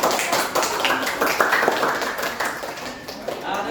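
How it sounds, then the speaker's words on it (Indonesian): Classroom students clap for a classmate's group after a presentation, a dense patter of hand claps that is fairly close and steady, with some voices mixed in. "Berikan tepuk tangan dulu untuk temannya."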